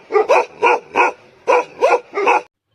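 Fierce dogs bark in two quick bursts of sharp, loud, close barks, three then four in a row, with a short pause between the groups.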